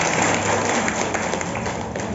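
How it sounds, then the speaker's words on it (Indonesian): An audience of Muslimat and Fatayat NU members clapping at an Isra' Mi'raj gathering in Ujungpangkah, with dense, steady applause running for about two seconds. "Tepuk tangan."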